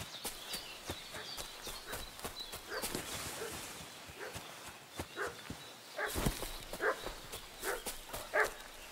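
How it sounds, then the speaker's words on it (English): A dog barks in a medieval village in Kingdom Come: Deliverance 2, short repeated yaps at moderate distance mixed with hoof clip-clops and footsteps, fairly quiet overall. "What's that dog making such a fuss about?"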